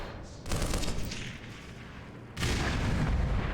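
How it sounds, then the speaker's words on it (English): Grenade explosions in Black Mesa, heavy rumbling blasts in two bursts, the second louder and sustained, with a dense booming roar and no talking. "I wonder which side's using the grenades."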